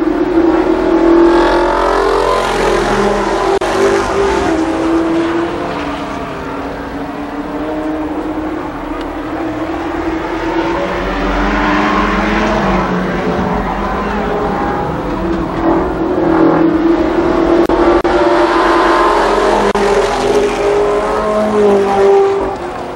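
Race cars at Columbus Motor Speedway, a loud continuous roar of engines revving and passing around the track, with a distant announcer voice faintly underneath.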